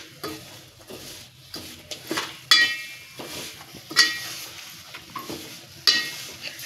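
Jaggery is stirred in a hot pan for sesame ladoo, making a close, soft sizzle with repeated scraping strokes and occasional sharp clinks of the spoon against the metal.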